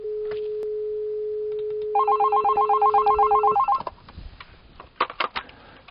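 A soft phone call on a PC places a call: a steady dial tone gives way to a rapid electronic ringing trill lasting about two seconds, followed by brief clicks and noises as the line connects.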